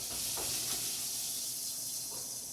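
Butter melting and sizzling in hot oil with broccoli and carrots in a pan, a steady close hiss of frying with a few soft stirring scrapes, no talking.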